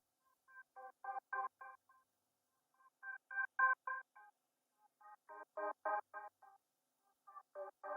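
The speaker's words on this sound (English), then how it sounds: "This is what the melody sounds like with all the effects on." A bright synth melody plays in repeated short phrases of quick tonal notes, each phrase separated by a brief pause, with a light echo effect.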